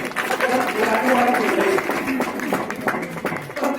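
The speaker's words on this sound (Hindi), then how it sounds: "एक बार वो ताली अपने हाथ में दीजिए।" An audience at a seminar in Hardoi claps together on request, a dense, fairly loud patter of hands mixed with voices and crowd noise throughout.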